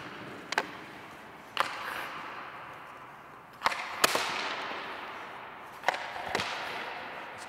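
Ice hockey pucks are shot at the crease and tipped with a stick, giving about five sharp, separate cracks spaced a second or more apart over faint rink ambience.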